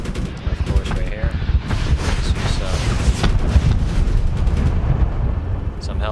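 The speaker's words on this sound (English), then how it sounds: "Some hellfire and chain gun." An attack helicopter in a Medal of Honor video game fires its chain gun and Hellfire missiles, producing a continuous, heavy roar of rapid fire and rumbling blasts, with faint voices underneath.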